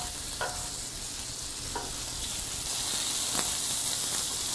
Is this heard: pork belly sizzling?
yes